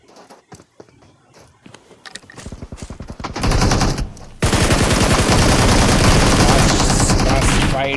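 Rapid automatic gunfire during a fight in the mobile battle royale game Battlegrounds Mobile India, building from sparse shots and footsteps into loud, dense, sustained bursts.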